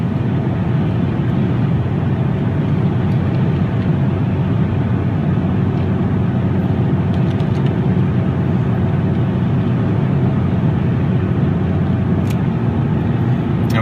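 Steady diesel drone from a Ram EcoDiesel pickup truck cruising around a turn and shifting down a gear, a loud, constant engine and road noise throughout.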